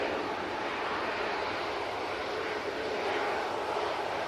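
An EasyJet Airbus A321neo on its takeoff roll at Manchester Airport makes a broad, even jet roar, steady and fairly distant, with no voices over it.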